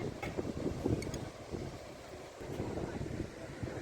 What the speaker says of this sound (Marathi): बीच पाणी कसं सुंदर आहे लाटा येत आहेत